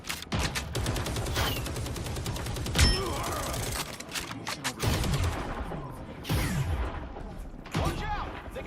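Sniper and other gunfire from the hero shooter video game Marvel Rivals, sharp loud shots and bursts scattered through a busy game mix, with voices talking over the action.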